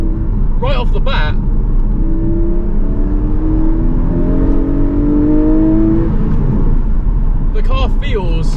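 A Porsche 718 GTS 4.0 with a naturally aspirated engine revs hard, its rising tones climbing through the middle of the clip under a steady road rumble, with a voice talking briefly at the start and end.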